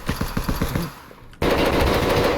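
Rapid automatic gunfire in the video game Escape from Tarkov, a burst of about ten close, loud shots in quick rhythm, then a brief lull before a louder, dense burst of firing or impact noise.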